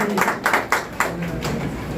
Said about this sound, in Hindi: थोड़ी सी तालियों में कंजूसी नजर आ रही है